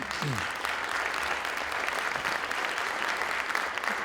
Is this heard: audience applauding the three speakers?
yes